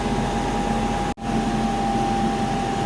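Steady loud hum and tonal whine of a DC series motor running on a load test rig, continuous apart from one brief dropout partway through, with no speech.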